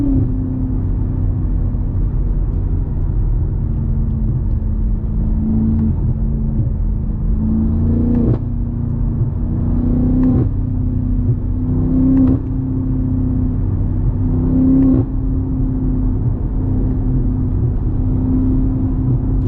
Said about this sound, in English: This car sounds so crazy.